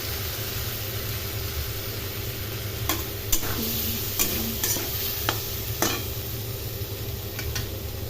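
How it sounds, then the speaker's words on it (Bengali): Spice paste with tomato and a little salt frying in oil in a pan, with steady sizzling under repeated scraping stirs and clacking spoon strikes against the pan. "এই মশলাটা ভাজা হয়ে গেছে"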